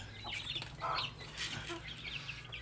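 Backyard chickens cluck and chatter close by, with ducks kept alongside them in a crowded pen; soft repeated calls fill the short stretch with no talking.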